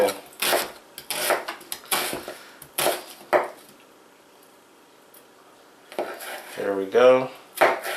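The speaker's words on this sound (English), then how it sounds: "I'm going to give my red onion a good chop here." Red onion chopped on a board with a knife: quick bursts of broadband chopping hits in clusters, close and fairly loud, a quieter pause in the middle, then a fast rattling run of strokes. A voice speaks briefly.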